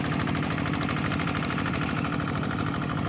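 A plowing machine's engine works a rice field, a steady, loud, continuous mechanical drone with a throbbing rhythm and no voices.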